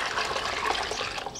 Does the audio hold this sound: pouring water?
yes